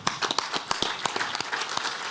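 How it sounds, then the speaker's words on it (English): Farmers in the audience at an agricultural congress give themselves a brief round of applause, a short burst of sharp, close individual claps over a softer clapping bed. "I think you guys all owe yourself a round of applause for that."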